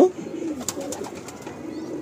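A pigeon coos softly in a loft, a low murmuring call rising at the start and recurring faintly amid steady background noise and a few sharp higher sounds.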